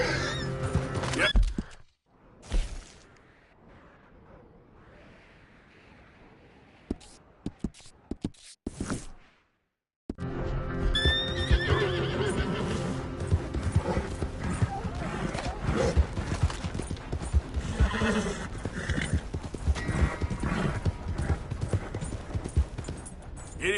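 In a PS4 video game, a horse's hooves clip-clop in a steady galloping rhythm under game sounds and occasional talk, after a short quiet stretch at the start.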